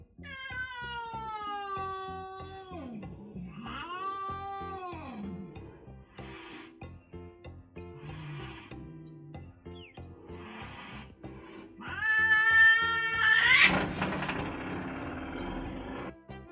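A new kitten meows repeatedly indoors, a series of drawn-out, wavering cries with short pauses between them, the last one louder and more strained.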